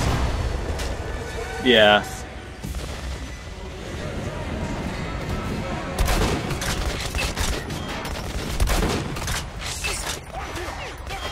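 Gunfire aimed at a tank in the video game Metro Last Light: several loud broadband bursts and rattling blasts scattered through the clip, with a voice talking over the battle noise.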